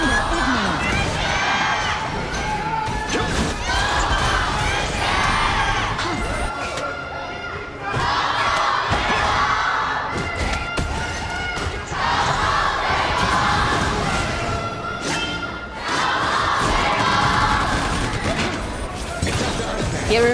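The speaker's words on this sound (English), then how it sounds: "Hearing from the crowd," Large esports arena crowd at the Honor of Kings World Cup grand final roars and cheers in repeated swelling waves, loud and sustained, with a commentator talking over it.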